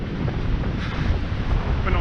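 Steady wind roars and buffets across the microphone on the beach at The Hague, with dense low rumble and a broad hiss, continuous and close without clear gusts.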